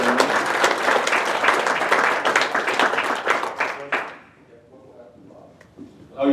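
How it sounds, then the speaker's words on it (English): Audience applause at a 2015 Landlords of Iowa conference in Ames, a dense burst of clapping for about four seconds that quickly dies away, leaving a quiet room with faint talk before another loud sound at the end. "Let's give Chip another round of applause"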